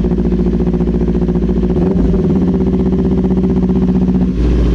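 A Kawasaki Ninja 400 motorcycle engine runs close by, a steady throbbing idle that rises into a brief rev and then settles back.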